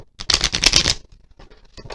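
Tarot cards riffled in a quick burst of dense, crisp flutters lasting under a second, then quieter soft handling and a brief second riffle, close up.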